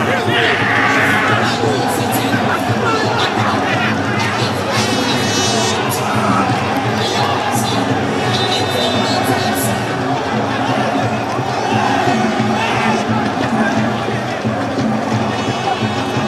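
Football fans at a lower-division Ghanaian league match between Emmanuel City and Danbort FC cheer and shout as a steady crowd roar, with a commentator talking over it.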